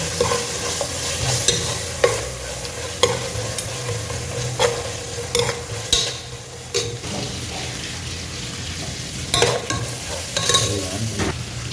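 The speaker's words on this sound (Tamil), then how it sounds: "இதோட பச்சை மிளகாய் போட்டுக்கிறேன்." Green chillies fry with browned onions in a pan for beef dum biryani, a steady sizzle broken by repeated sharp scrapes and clinks of a stirring spoon against the pan.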